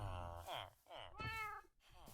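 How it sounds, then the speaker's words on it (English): Cat meowing in the Minecraft video game, several drawn-out, close meows in quick succession with short pauses between them, loud and clear with no talk over them. "look at how far this kitty cat's been getting bumped"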